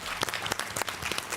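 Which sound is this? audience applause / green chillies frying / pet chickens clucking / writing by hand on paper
audience applause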